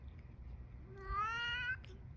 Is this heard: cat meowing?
yes